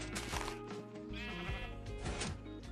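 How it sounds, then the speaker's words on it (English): Sheep bleat in the Minecraft video game, several short wavering bleats one after another, fairly quiet over a constant background of game sound. "I heard the sheep eat."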